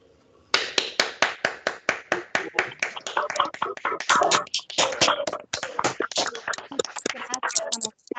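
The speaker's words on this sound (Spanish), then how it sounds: "le demos un fuerte aplauso por esta gran conferencia magistral" A conference audience claps after a keynote lecture: a burst of applause starts abruptly and continues as a dense, fairly near patter of many hands, with some speech mixed in.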